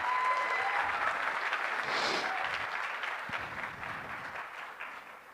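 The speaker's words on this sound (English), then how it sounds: "So let's give a big round of applause to ShopUp." Sustained crowd applause fills a large audience hall at the Bangladesh Investment Summit inauguration ceremony, dense and steady clapping that slowly fades over several seconds.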